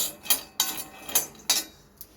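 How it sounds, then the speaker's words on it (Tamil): Poppy seeds roasting on a low flame give off a few sharp crackles and pops, about five distinct bursts spaced irregularly and heard close up with nothing else around them. "கசகசா வந்து இந்த மாதிரி சட சட சடன்னு பொரியணும். சவுண்டு கேட்குறா?"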